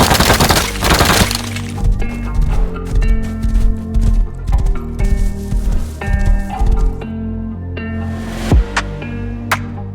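Horse hooves clip-clopping at a gallop across desert plains in the survival game Rust, steady rhythmic beats close up under a bed of game music with occasional sharper knocks.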